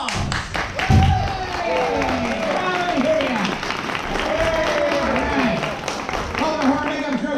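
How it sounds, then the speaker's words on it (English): An audience at the Horror Makeup Show at Universal Studios Orlando claps and cheers for the host, steady applause filling the space with shouts and whoops breaking through. "how about a nice round of applause for the host of today's show"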